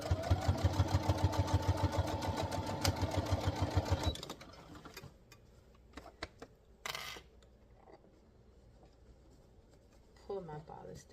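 A sewing machine stitches a bodice to a skirt in a fast, steady run of close stitching for about four seconds, then stops, leaving quiet fabric handling and small clicks.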